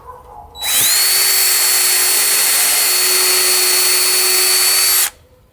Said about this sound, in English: drill some pilot holes